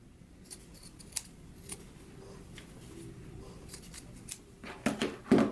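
Scissors snip through the sewn ends of a skirt waistband, a few sharp cuts spread over several seconds, getting louder and denser toward the end, close and alone with no talking.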